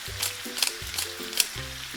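Veal chops seasoned with black pepper and rosemary sear in a hot pan, giving a steady close sizzle with a few louder crackling bursts and brief lower stirring or handling noises, no voices.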